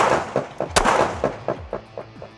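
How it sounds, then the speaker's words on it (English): Gunshots fired in a hunting-area defense scenario near an ATV: a sharp, loud report followed by a string of rapid echoing pops and booms that fade out, no talk over them. "I'm gonna get the sights, I'm gonna come up and I'm gonna engage 2 rounds"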